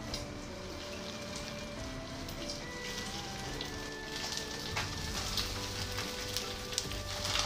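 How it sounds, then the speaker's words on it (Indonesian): Tofu fries in hot oil in a home kitchen, giving a steady, even sizzle with faint crackles and pops throughout, moderately loud and close, with no talking. "setelah minyak panas goreng tahu"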